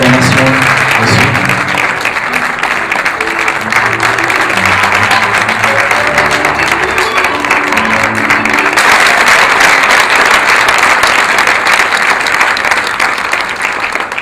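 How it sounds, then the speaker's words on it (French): A crowd at an outdoor flag handover ceremony in Yamoussoukro bursts into sustained, dense applause, loud and continuous throughout, with a few faint voices mixed in. "Sous vos acclamations"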